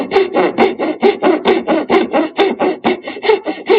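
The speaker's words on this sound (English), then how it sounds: "Using a sharp utility knife gives me accurate marks and a place to set the chisel." A sharp utility knife scoring layout lines across a wooden board for dovetail tails, a steady run of about fifteen short, rhythmic scraping strokes, close and fairly loud with nothing else heard.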